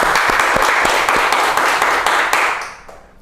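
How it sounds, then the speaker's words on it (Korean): Korean book-club audience applauding at a talk event: steady dense clapping from a crowd, close and full, fading out over the last half second. "박수 한번 쳐주시죠"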